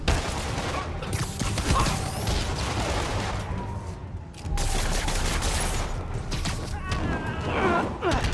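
Video game gunfire from Marvel's Spider-Man on PS4, bursts of shots and thuds mixed into dense, continuous game action and effects, with someone talking over it.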